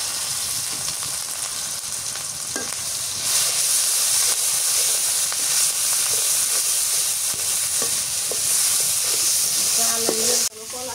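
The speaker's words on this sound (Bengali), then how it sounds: "দিয়ে দিলাম রসুন বাটা আর একটু জিরে বাটা," Garlic, cumin and onion paste fry in a pan for a banana stem and hilsa dish, giving a loud continuous hiss and sizzle that swells partway through, with occasional soft stirring knocks and a brief clink near the end.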